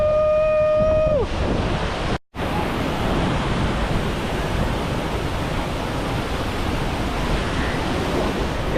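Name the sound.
waterfall in upstate New York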